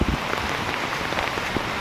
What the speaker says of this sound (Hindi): इधर भी पूरा बारिश ही बारिश,